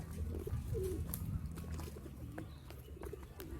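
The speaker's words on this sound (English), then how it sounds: "This is bird, I think." A pigeon or dove coos softly a few times on a hillside at Kedungombo, the calls faint and moderately distant against steady low outdoor rumble, with no talking.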